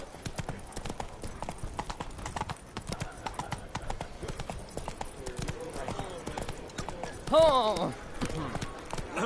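Roach the horse galloping in The Witcher video game, rapid rhythmic hoof clip-clops with a brief whinny near the end, while someone talks over it.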